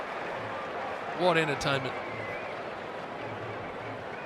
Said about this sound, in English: Have to listen to the noise of that crowd.